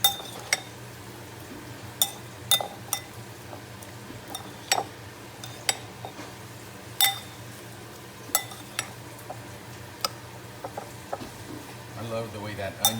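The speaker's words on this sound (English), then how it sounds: "I'm gonna stir this up, get it nice and mixed." Onion, green onion and tomato are stirred in a frying pan, with a low, steady sizzle under repeated sharp clinks of a utensil against the metal, close by and without talk.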